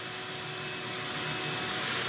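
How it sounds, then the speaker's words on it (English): A vacuum cleaner runs steadily indoors, a loud continuous broadband whoosh with a faint tonal hum that swells slightly toward the end, heard alone without voices. "Now we have the vacuum going."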